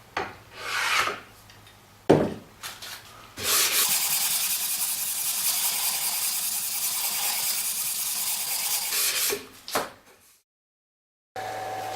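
A piece of wood is shaped for a DIY knife block on a sanding disc, with short rasping passes followed by a long, steady, loud grinding stretch, then a pause and the motor resuming.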